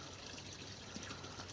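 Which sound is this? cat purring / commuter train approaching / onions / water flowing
water flowing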